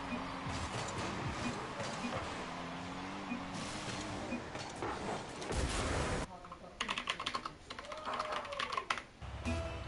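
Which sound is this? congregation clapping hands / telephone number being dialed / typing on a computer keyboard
typing on a computer keyboard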